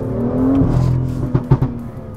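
A BMW M2 engine rumbles and revs, then a quick burst of sharp popping crackles follows near the end, close and loud.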